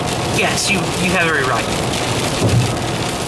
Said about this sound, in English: Still really rainy.